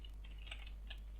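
Quiet keystrokes on a computer keyboard while writing a JavaScript function: a few soft, irregular clicks in quick succession over a low steady hum.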